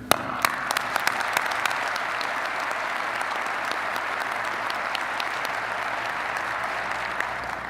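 Sustained audience applause fills a hall at Virginia Beach's 2014 State of the City address, a steady dense wash of many hands clapping at even loudness throughout, with no talk over it.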